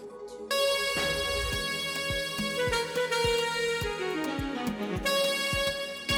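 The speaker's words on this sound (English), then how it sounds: "we have a sax lick" Saxophone lick played over a full FL Studio production of a song, the melodic line sitting atop steady kick drums and dense harmonic backing, loud and continuous throughout with no talking.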